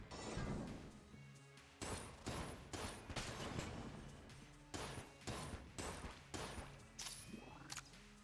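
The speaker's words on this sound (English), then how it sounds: "Oh, it's a freeze gun, literally." Freeze gun in Enter the Gungeon fires in a string of sharp, loud blasts, roughly one per second, each with a short crackling tail.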